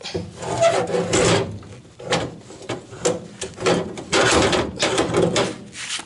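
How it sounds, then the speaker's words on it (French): A Citroën Xantia seat is slid into a Citroën Traction 11B interior, producing repeated close scraping, rubbing slides in short bursts with brief pauses between pushes and no voices. "Il me reste plus qu'à glisser le fauteuil dedans."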